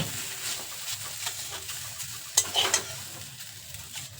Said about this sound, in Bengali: শাকটা ভাজা হয়ে গেছে এখন শাকটাকে নামিয়ে নিচ্ছি